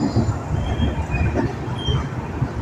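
A Garib Rath Express, train 12517 running from Kolkata to Guwahati, pulls away with a steady low rumble and rolling wagon noise, heard continuously from a safe distance.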